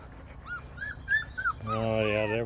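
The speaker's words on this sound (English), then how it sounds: "Oh yeah, they're whining a little bit, but not too much, because mama won't stay with them." Australian Shepherd puppies whine softly in a run of short high whimpers, then one longer drawn-out whine, close by and fairly quiet.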